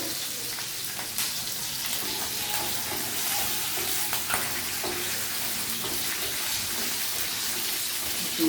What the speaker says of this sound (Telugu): కొంచెం వేయించుదాము.